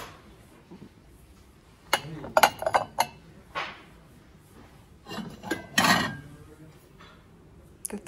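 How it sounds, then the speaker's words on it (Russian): Rosenthal ceramic soup plates clink and clatter in several short bursts as they are handled and set down, with quiet pauses between, close and fairly sharp. "Суповые тарелки."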